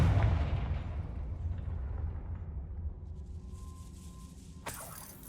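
A Confringo fire spell blast from Hogwarts Legacy, fought against a troll: a deep, loud booming burst that rumbles and fades over several seconds, ending in a sharp crackling flare.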